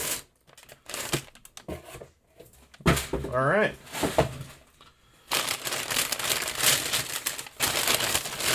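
Packing paper crumpled and rustled while unboxing a Spyderco knife package, with bursts of crinkling close to the mic interspersed with someone talking.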